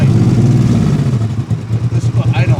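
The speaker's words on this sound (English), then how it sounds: "This is what idling should be." A 2003 Honda VTX1800 motor trike engine idles close by with a deep, steady, lopping pulse, turning choppier and more rhythmic toward the end.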